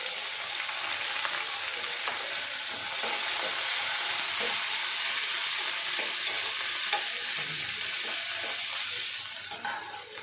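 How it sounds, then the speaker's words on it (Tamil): Onion, tomato and garlic sauté in a pan for a bitter gourd pachadi. A continuous hiss and sizzle carries on for about ten seconds, with stirring scrapes throughout and no talking. "வெங்காயம் தக்காளி இது எத்தனையும் நல்லா வதக்கிக்கிடலாம்"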